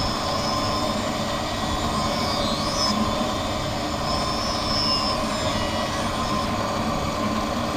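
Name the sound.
lens edging machine cutting and bevelling eyeglass lens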